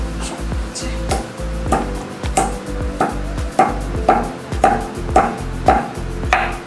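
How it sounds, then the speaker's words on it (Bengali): Cardamom, cloves and cinnamon are ground on a flat grinding stone with a stone roller, giving about a dozen rhythmic scraping thuds at a steady pace, close and clear. "এটাকে আমি শিলনোড়ায় বেটে নেব"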